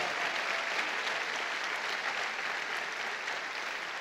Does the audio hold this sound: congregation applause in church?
yes